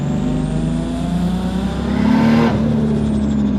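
A turbocharged Toyota JZ-engine car with an external wastegate accelerates hard, its loud, steady engine roar close by and swelling in intensity toward the end, with no talking.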